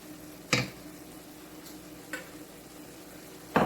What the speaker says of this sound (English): We're going to add our chilies, our grated garlic,